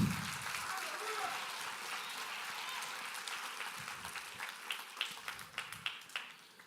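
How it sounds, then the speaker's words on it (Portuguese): A church congregation claps at a worship service, a soft wash of applause that thins toward the end into distinct, rhythmic individual claps. "Pode dar um aplauso a Jesus?"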